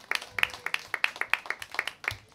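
A small audience claps a brisk round of applause at a live concert: sharp, fairly regular hand claps, close and moderately loud, with no talking.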